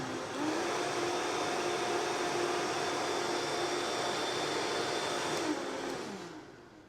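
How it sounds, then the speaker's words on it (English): A Vitamix high-speed blender runs on high, a steady loud motor whine and whir that holds constant for several seconds before spinning down at the end. No talking is heard. "But with a high-speed blender like this, you can get it really, really fine so it won't add grittiness to your sauce."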